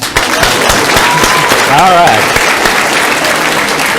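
An audience breaks into loud, sustained applause at a talk, dense and close, with a brief voice cutting in over the clapping.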